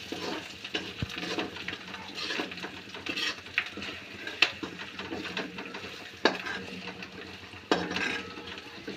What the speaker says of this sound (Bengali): ভালো করে কষাচ্ছে এখন মশলাগুলো দিয়ে দিয়ে।